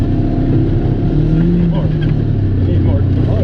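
A 900s off-road vehicle crawls over rocks in low gear, its engine a steady low rumble with a faint droning tone, heard close from inside while people talk over it.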